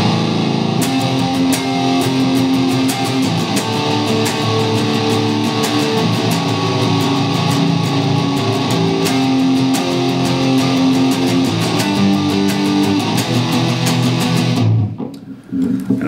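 Heavy distorted electric guitar chugs through a chorus riff, dense and loud throughout with sustained chords, cutting off sharply just before the end.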